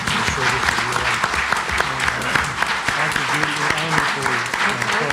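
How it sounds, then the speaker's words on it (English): Debate audience applauding the candidates, sustained crowd clapping with sharp individual hand claps standing out, while a voice talks underneath throughout. "Let's give them an applause."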